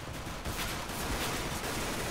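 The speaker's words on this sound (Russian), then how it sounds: "Какая-то странная стрельба, ребят, да?" Bursts of gunfire in CS:GO, rapid overlapping shots and a brief fusillade over a dense noisy background, moderately loud and without voices.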